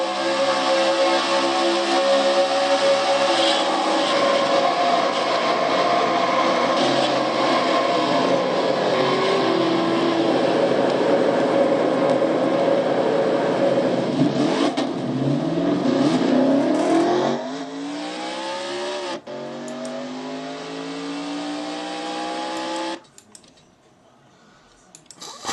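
Onboard engine noise from a stock car in a Castrol GTX Cup Series race in a racing video game, loud steady revving that wavers and drops in pitch as the car slides, then cuts off near the end.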